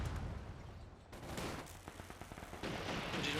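A Calliope rocket artillery barrage in the strategy game Company of Heroes 2 makes a dense, continuous roar of launches and blasts. Crackling and rumbling, it is loud and close, and no one talks over it.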